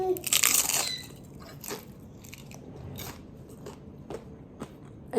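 Crisp bites and crunches on homemade tortillas topped with bean dip, a loud crackly bite at first followed by quieter chewing crunches spaced through the clip.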